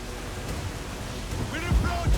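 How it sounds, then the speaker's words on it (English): Stormy seas in a pirate ship sailing game set in the Caribbean, with a steady wash of rain and rough water throughout and a low thunder-like rumble with voices near the end. "We're approaching a storm,"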